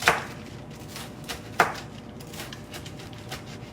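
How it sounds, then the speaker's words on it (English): Knife dicing two slices of toasted, cooled bread into cubes for extra casserole breading, with a few sharp crisp chops on a board, one near the start and one at about 1.6 seconds, then softer scattered cuts. "And now I'm just dicing it"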